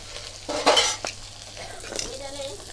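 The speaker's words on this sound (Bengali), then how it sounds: "মশলাটা কিন্তু আমি কষিয়ে নিয়েছি।" Spice masala sautéing in a pan for a shapla (water lily stem) dish, with a soft sizzle and a few scraping stirs, plus a brief louder clatter near the middle.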